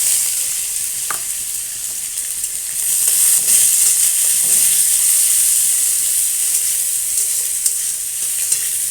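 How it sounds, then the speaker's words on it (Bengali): Chopped onions sizzle and fry steadily in a pan as they are stirred for a Bengali dhokar dalna, a continuous close hiss with occasional spatters and scraping, no talk. "ভালো করে ভাজতে হবে পেঁয়াজটাকে।"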